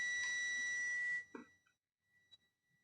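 A multimeter's continuity test gives a steady high-pitched electronic beep for about a second, then cuts off, followed by a couple of faint clicks and near silence.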